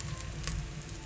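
Prawns fry in a pan with a steady, even sizzling hiss throughout, and a brief crackling flare partway through.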